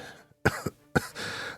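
A man in a sickbed coughs twice, harsh and close, each cough a sharp burst followed by a short raspy tail, with a wheezy breath trailing after the second.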